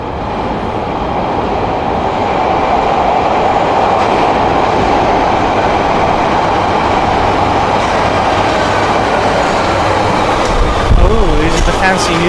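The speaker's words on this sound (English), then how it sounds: "This is a Blue Line train to O'Hare." A Chicago Blue Line subway train, one of the newer CRRC-built cars, rumbles and roars steadily and loudly throughout, with rail clatter and a faint voice under the noise near the end.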